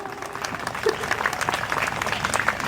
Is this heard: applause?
yes